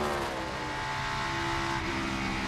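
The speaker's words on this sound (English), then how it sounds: "Motor still sounding good to me." NASCAR Cup Series race car at Pocono, its engine droning steadily from onboard with a rising and shifting harmonic whine, loud and continuous.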